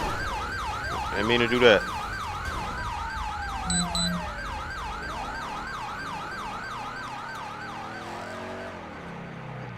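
Police car sirens in GTA 5 wail steadily through the whole stretch, several overlapping sweeping tones with a loud horn-like burst near the start and a brief low honk, one siren fading out toward the end as a voice speaks briefly.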